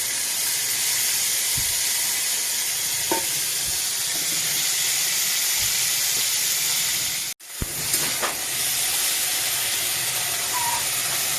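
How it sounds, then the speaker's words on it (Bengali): Steady, loud sizzling of prawns frying in hot oil in a wok, a dense hiss throughout with a brief drop and a few clinks from the pan. "তেল গরম হয়ে গেছে, মাছটা দিয়ে দিলাম।"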